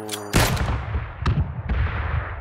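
Gunfire in a first-person shooter game erupts with a loud close burst, followed by a couple more sharp shots and rumbling echoes over a dense, busy background.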